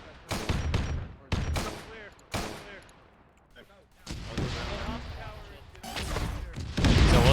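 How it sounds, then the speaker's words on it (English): Mortar and gunfire crack and boom in a Warhammer 40K game beach assault, sharp repeated blasts with rumbling echoes, layered with battle noise and occasional voices. "So they're firing mortars now."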